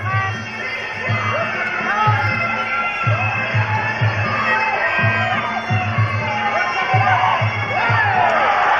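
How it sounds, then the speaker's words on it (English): A crowd at a Thai boxing match cheers and shouts in rising bursts over a steady hubbub, with a rhythmic low thudding running beneath the whole stretch. "Crowd acknowledging that one."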